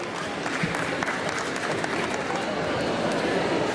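A crowd at a cosplay Q&A session at Harlow Comic Con 2017 applauds, a dense, continuous wash of clapping with crowd noise mixed in and no distinct individual claps.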